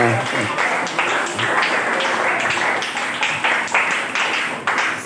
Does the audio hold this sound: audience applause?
yes